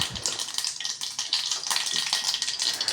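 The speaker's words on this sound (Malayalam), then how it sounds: "കടുക് പൊട്ടി വന്നിട്ടുണ്ട്." Mustard seeds spluttering and popping in hot coconut oil for a masoor dal tempering, a dense crackling sizzle with rapid irregular pops, steady and close throughout with no talk.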